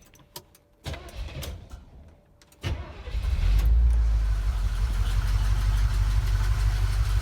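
A grey car's engine fires up after a few faint clicks and settles into a steady, loud, rumbling idle close by, running smoothly with a strong low drone that holds without a break.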